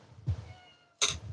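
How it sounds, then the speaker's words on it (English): A pet cat named Damino meows twice in a quiet room, a short low call followed by a brighter, sharper one a moment later. "Cat wants to say hi."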